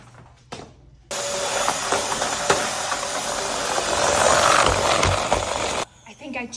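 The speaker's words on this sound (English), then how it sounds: "I'll just use Mom's vacuum to pick it up." A household vacuum cleaner sucks up pet poop, switching on abruptly into a loud, steady roaring whir that rises slightly before cutting off, with brief talking just before and after.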